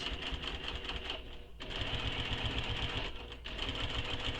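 A sewing machine runs steadily through fabric in a continuous mechanical whir with a rapid needle rhythm, pausing briefly twice before resuming, close and alone.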